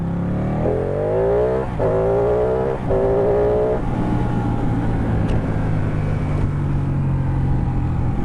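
A motorcycle accelerates hard nearby, its engine note climbing in three rising bursts separated by quick gear changes, then settles into a steady drone mixed with wind rush.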